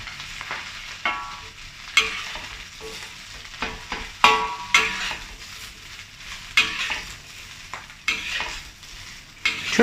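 Cabbage stir-fried over high heat with garlic and dried shrimp in a pan: a busy sizzle broken by repeated sharp spatula scrapes and clatters at an uneven rhythm, close and fairly loud, no talking.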